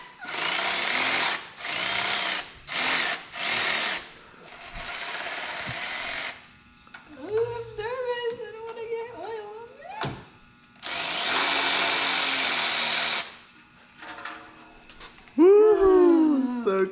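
A power tool loosens an oil drain bolt in several loud whirring bursts, separated by gaps, with people talking in between and over it.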